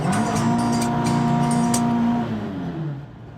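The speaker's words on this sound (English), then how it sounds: "the ST170 powered Mk1 Escort" A Ford Mk1 Escort's ST170 engine drones steadily at a constant pitch, then eases off near the end, heard close up from inside or beside the car.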